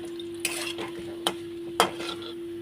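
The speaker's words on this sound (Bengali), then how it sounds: "তুই কিন্তু লাল করে কড়া করে ভেজো তাহলে ভালো লাগবে" Dhoka, lentil cakes, fry in oil while being stirred, with a soft steady sizzle broken by three sharp scraping clacks of a utensil against the pan.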